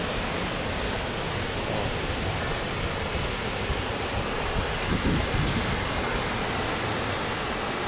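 Pulang Bato Falls, a waterfall near Dumaguete City in Negros Oriental, gives off a steady, dense roar of rushing water that holds nearly constant across the whole stretch with no pauses.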